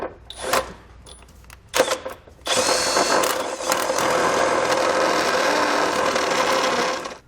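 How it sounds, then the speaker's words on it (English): A step drill bit enlarges a hole in the frame of a 2020 Subaru Forester: a few short clicks and bursts, then a loud, continuous grinding whir of the drill cutting metal, close by. "So what we're going to need to do is enlarge it, and I'm going to use a step bit."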